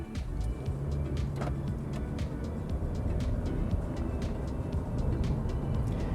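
A car with a CVT gearbox pulls away from a standstill, its engine held near 2000 RPM before the transmission lets the revs rise; a steady, moderate drone with road noise and no speech.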